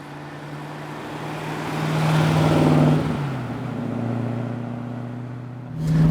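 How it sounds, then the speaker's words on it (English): A 1975 Alfa Romeo Montreal being driven slowly along a road, its engine giving a steady droning hum that swells and eases as the revs rise and fall, with a sharper burst of noise at the end. "that is one of the sweetest noises ever to come from a car."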